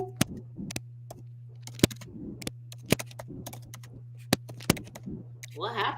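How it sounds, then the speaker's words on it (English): Sharp, irregular clicks of typing on a computer keyboard sound close against a steady low electrical hum, with faint voices murmuring underneath and a louder voice near the end. "I hear typing."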